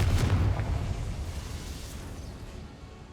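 A Confringo fire spell blasts in Hogwarts Legacy, a loud deep explosive boom at the start that rolls off into a fading rumble.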